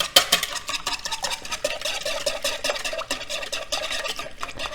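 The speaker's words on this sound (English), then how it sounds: "I like to give my eggs a quick whisk" A whisk beats four eggs in a bowl for a gluten-free quiche, with rapid, steady metallic clicking and scraping repeating evenly over several seconds, close and clear with no talking.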